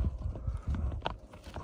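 A horse's hooves clip-clop in a quick, steady rhythm on hard ground, close and fairly loud over a brief stretch, with faint background noise.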